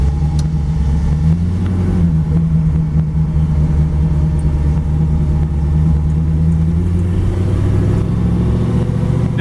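A historic 1932 Ford Victoria with a Hemi engine idles while still cold, its low, even rumble running close and steady, with a slight lift in pitch near the end.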